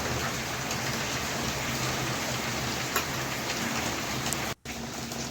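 Water bubbles at a steady boil in a pot for a katla fish curry, a dense, even rolling hiss that holds throughout, with one brief dropout near the end.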